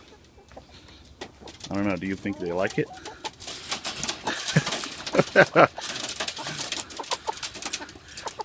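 Chickens being fed beetle grubs cluck and squawk close by while a person speaks briefly over them, with rustling and pecking sounds throughout.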